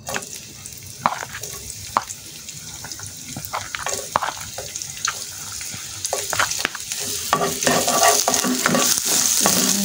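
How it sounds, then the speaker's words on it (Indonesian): Shallots sautéing in oil in a pan, a close crackling sizzle with frequent sharp clicks of a spatula stirring, growing steadily louder and denser toward the end, with no voices. "Lalu kita tumis bawang merah."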